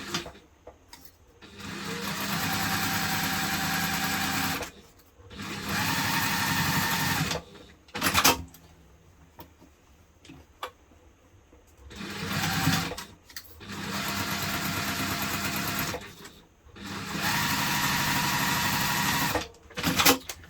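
Stitching down the sides of a bag, a sewing machine whirs in five or six loud, even bursts of a few seconds each, separated by short pauses with faint handling noises.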